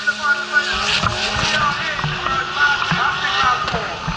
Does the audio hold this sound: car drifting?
yes